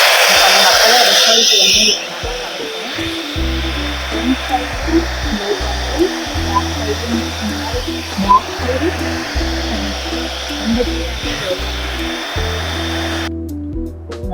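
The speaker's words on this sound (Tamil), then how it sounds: "ஃபர்ஸ்ட் வந்து ட்ரை பண்ணிக்கோங்க ஹேரை" A handheld hair dryer blows hair dry while styling for volume with velcro rollers, a loud, close, steady airflow whoosh running throughout while a voice speaks briefly over it.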